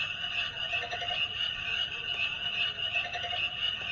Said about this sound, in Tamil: இது தவளை கத்துறது.